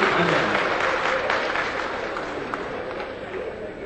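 Loud applause from the audience at a televised Bihar mehfil poetry gathering, a dense wash of clapping that is strongest at the start and tapers slightly while continuing throughout, with faint voices mixed in.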